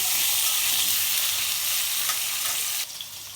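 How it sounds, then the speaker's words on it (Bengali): Potatoes frying in a pan with cumin, bay leaf and salt, a loud continuous sizzle that holds steady throughout, then drops slightly near the end as if stirred or the heat shifts. "আলুটা একটু ভাজা ভাজা করে নেই"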